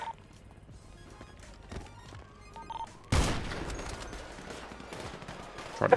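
Gunshots from Grand Theft Auto V, a sharp loud crack followed by scattered fainter shots over quiet street ambience.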